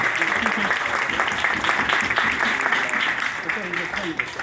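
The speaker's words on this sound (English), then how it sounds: "so a round of applause for Peter Jacobs" Audience at a fundraiser for Peter Jacobs applauding, a dense steady wash of clapping from a crowd with talk mixed in underneath.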